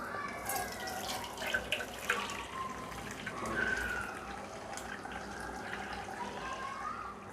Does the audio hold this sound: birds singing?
no